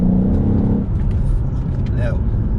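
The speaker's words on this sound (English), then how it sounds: "just had a little play with the throttle pedal there" Loud exhaust of a 700 bhp Mercedes E63 AMG with the throttle blipped: a brief harmonic rev that drops into a deep, rumbling idle close by, with a voice heard over it.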